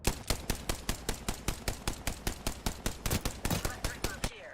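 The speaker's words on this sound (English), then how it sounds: "I am taking fire, friends." Rapid automatic gunfire from a video game, a steady stream of about twenty evenly spaced shots rattling at close range before cutting off.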